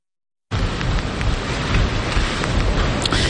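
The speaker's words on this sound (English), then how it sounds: "the wind is still blowing" Wind roaring during a storm with rain and hail: a loud, dense, broadband rush that starts abruptly after a short silence and holds steady, close to the microphone.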